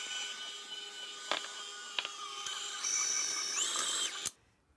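An electric mixer runs on low through dry oatmeal cookie ingredients with flour, giving a steady, close motor whine that rises in pitch near the end, with a couple of sharp knocks before it cuts off abruptly.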